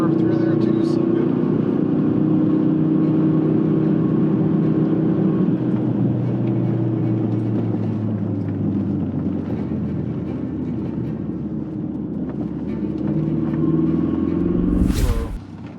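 From inside a Ford Focus RS rally car on snow, the engine drones loudly and steadily with road rumble and wind noise, a brief sharp burst near the end, while people talk over it.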